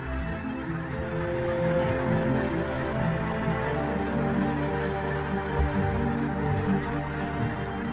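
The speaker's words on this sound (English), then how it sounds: "Snow geese are highly sociable and travel in large flocks that are made up of many family groups." A large flock of snow geese honks continuously, a dense, overlapping chorus of calls that stays steady and fairly loud throughout, with no talk over it.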